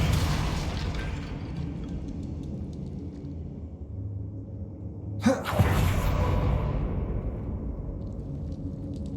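Depulso force spell cast in the video game Hogwarts Legacy: a single sharp burst with a booming whoosh midway, standing out against a steady low ambient game rumble.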